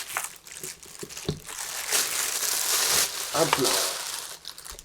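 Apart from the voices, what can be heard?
unboxing a Thrustmaster HOTAS Warthog throttle, packaging crinkling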